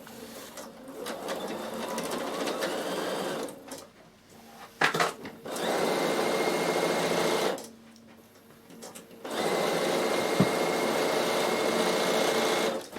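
A Bernina sewing machine stitches a peak cap from bottom to top, its steady motor whirring in three long runs separated by short pauses, close and moderately loud, with no talk.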